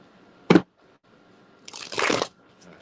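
Tarot cards being shuffled: one sharp snap of the deck, then after a short pause a longer riffling burst of cards sliding together, close and fairly quiet, with no talking.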